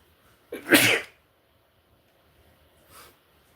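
A single loud, close sneeze bursts out alone against near silence, followed a couple of seconds later by a faint breathy sniff.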